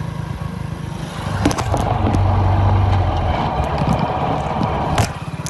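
Steady engine drone and rushing wind from a motorbike being ridden along a scenic rural road in Bangladesh, loud and continuous, swelling slightly midway with a few sharp knocks.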